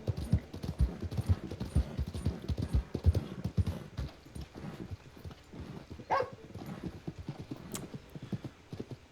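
Steady clip-clop of a horse's hooves in Red Dead Redemption 2, a long run of close, even hoof strikes with a brief distant bark-like sound near the end.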